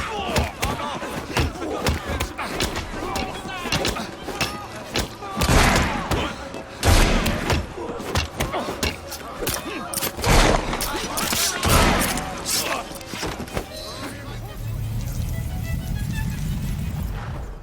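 Gunfire crackles through a cutscene in the video game Assassin's Creed Syndicate: several loud, sharp bursts and thuds scattered across the scene, mixed with crowd noise and voices speaking.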